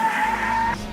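A motorcycle brakes hard and skids, a brief high tire squeal over engine rumble that cuts off abruptly after under a second.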